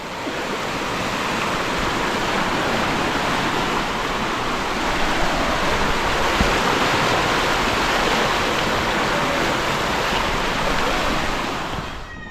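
Floodwater from the breached Shilabati river embankment pours through toward a village, a steady, dense roaring rush that stays loud and unbroken throughout, with no voices.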